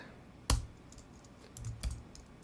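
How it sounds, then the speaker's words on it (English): A few scattered keystrokes on a computer keyboard, one crisp click followed by a small cluster of lighter taps, close by and fairly quiet, with no speech. "And in here, I type npm install."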